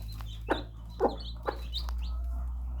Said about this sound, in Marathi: कोंबडी बोलवते त्यांना, शिकवते खायला